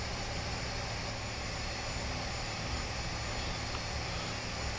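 Aircraft engines running steadily after start-up in a Prepar3d flight simulator home cockpit, a constant loud broadband drone with no breaks.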